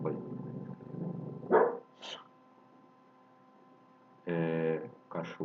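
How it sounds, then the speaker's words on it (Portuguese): A dog barks indoors in a few loud, close bursts, with someone speaking before and between them in a home setting. "O cachorro latindo"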